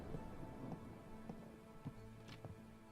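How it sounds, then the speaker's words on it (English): A video game storm in The Necromancer's Tale plays faintly, with steady rain hiss and scattered droplet ticks under occasional low rumbles of distant thunder, no talking. "The storm is quite loud."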